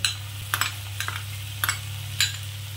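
Ground poppy seed and green chilli paste cooks with shrimp on a lowered gas flame, giving a soft, continuous sizzle. A few spoon-scrape stirs sound over it, close and brief.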